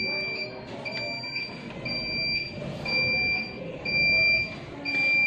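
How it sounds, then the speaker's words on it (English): Intermittent high electronic beeps from a fuel dispenser signalling an error repeat over a busy background of rumble and murmur, the tones sounding and pausing in an irregular pattern. "there is a continuous beep"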